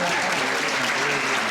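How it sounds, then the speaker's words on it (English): A convention panel audience applauds, dense steady clapping filling the room without a break for the whole short stretch. "Round of applause for her."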